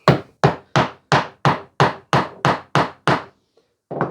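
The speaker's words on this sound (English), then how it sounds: "nail our second block at that position there" Hammer driving nails into a wooden block, ten sharp, evenly spaced strikes in quick succession, loud and close, then a brief pause before one more blow.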